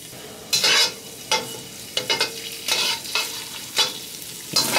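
Garlic, ginger and cumin seeds frying in olive oil, with a constant close sizzle broken by repeated bursts of stirring scrapes and crackle about every half second to second, loud and near, with no voices.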